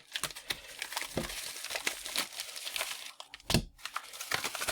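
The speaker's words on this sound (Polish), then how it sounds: "Więc cóż, zabierzmy się za otwarcie paczuszki." A shipping package of ordered trading cards is torn open, giving close, intermittent crinkling and rustling of packaging with sharp tearing bursts and no talk.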